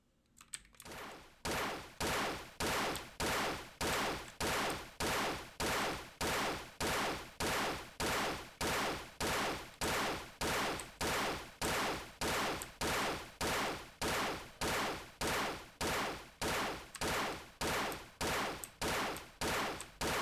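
Rapid, evenly spaced gunfire from shooting in an itch.io game, a long unbroken run of loud sharp shots roughly every half second after a brief quiet start.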